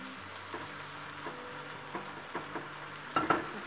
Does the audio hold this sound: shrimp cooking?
yes